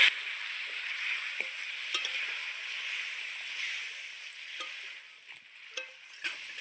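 Water hits a pan of frying onion stalk and eggplant curry, setting off a loud, steady sizzling hiss close by that eases slightly toward the end, with a few soft clinks and stirring noises and no talking.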